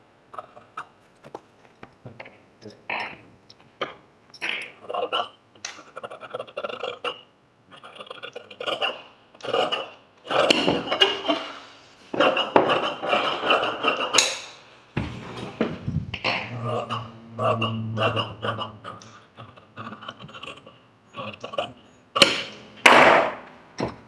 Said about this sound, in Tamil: இப்போ நான் மார்க் பண்ணிவிட்டேன் இந்த பேக் பீஸை கட் பண்ணி எடுக்கிறோம்